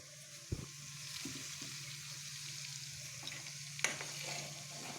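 Milk cream stirred in a wok while being cooked down into ghee, a steady soft sizzle with a few scraping stirs and one sharp clink, close and alone with no voices.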